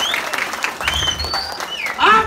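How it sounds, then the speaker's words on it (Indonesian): Applause from a temple festival crowd at a Balinese Prembon Penyalonarangan performance, a steady patter of clapping mixed with whistles and voices, swelling louder near the end. "Tepuk tangan untuk beli"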